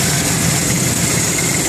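A 1991 Chevrolet Camaro RS with a carbureted 350 swapped in for throttle-body injection, idling loud and close with a steady low rumble, no talking.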